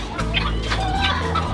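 A four-year-old gamecock rooster at a breeding farm clucking in short repeated calls, close and fairly loud over a steady low background hum.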